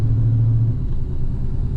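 Almost stock Ford Mustang Foxbody running on the road, a steady low engine rumble with a droning hum, close and continuous with no talking.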